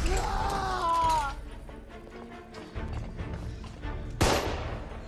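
Gunfire and crashing impacts from the video game The Order: 1886, a loud burst with a sharp crack near the end over a dense battle din, with some muffled voice-like tones early on.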